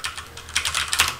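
A computer keyboard being typed on in quick, light bursts of clicky keystrokes, close and fairly quiet, entering a telnet command.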